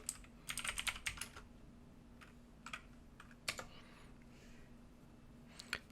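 Keys clacking on a computer keyboard as terminal update and upgrade commands are entered, in short uneven bursts of quick taps separated by pauses, close and fairly quiet.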